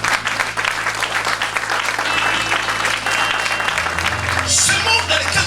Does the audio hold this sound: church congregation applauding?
yes